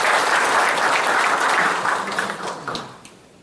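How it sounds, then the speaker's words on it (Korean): Congratulatory applause from an audience at a Gumi Chamber of Commerce breakfast meeting, a dense burst of clapping that is loud at first and then fades out over a few seconds. "축하의 박수 부탁드리겠습니다."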